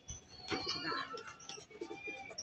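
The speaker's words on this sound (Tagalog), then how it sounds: "Yan yung ating kalapate, nagdapuan na, no?" Pigeons perched on a rooftop give soft, low cooing calls among faint wing and bird sounds at close range, with a brief bit of background voice.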